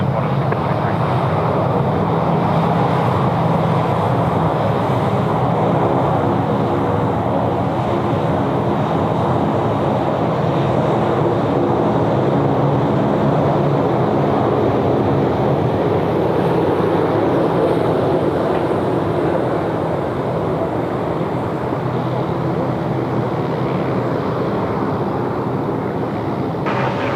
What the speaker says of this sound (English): Qantas 643 with a rolling start, runway 16 right, cleared for takeoff.